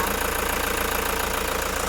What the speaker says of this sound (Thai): ตอนนี้สตาร์ทเครื่องยนต์อยู่นะคะ คุณลูกค้าฟังเสียงเครื่องยนต์ได้เลยค่ะ